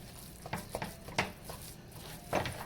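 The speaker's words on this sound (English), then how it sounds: "you do want to keep stirring it throughout the cooking process and breaking up any lumps that might be forming" Ground beef filling for Haitian meat pies frying in a hot pan while being stirred, with soft scraping strokes and brief clinks at irregular intervals over a steady low sizzle, heard close and without talk.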